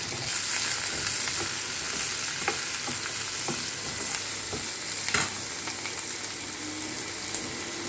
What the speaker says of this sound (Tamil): அதிலே வெங்காயம் பச்சை மிளகா எல்லாம் போட்டு வணக்கிடலாம்